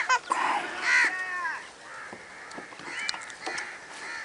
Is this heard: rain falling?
no